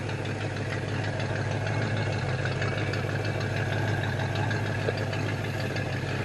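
A 1968 Ford Mustang idles through stock-style mufflers with an unwelded exhaust pipe joint, giving a steady, even engine rumble that stays moderate in volume for several seconds.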